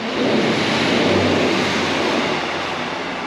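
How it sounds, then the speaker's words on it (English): A short two-carriage train rumbles steadily overhead on a railway bridge, a loud, continuous low roar and rattle that holds for a few seconds with no voices. "you hear a train going over."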